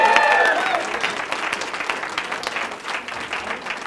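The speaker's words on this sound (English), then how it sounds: "So everyone give Miguel a big round of applause" A seminar audience gives Miguel a round of applause, dense clapping that starts loud and gradually thins and fades, with a brief whistle-like tone near the start.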